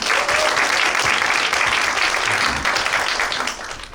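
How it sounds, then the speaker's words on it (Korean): Sustained applause from an audience at a youth foundation's long-term vision forum, a dense, steady wash of clapping that fills the hall and tapers slightly toward the end. "박수로 청하겠습니다."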